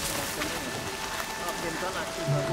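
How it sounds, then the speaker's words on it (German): Rain falling in the video game Horizon Zero Dawn, a soft steady patter and hiss at low level under faint background game sounds. "Jetzt regnet es schon wieder."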